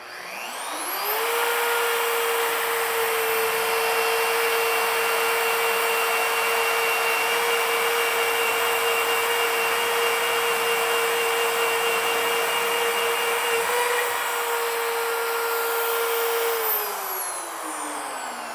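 A magnetic drill starts up, runs at a steady high-pitched whirring drone for about fifteen seconds, then winds down, loud and close with no talk.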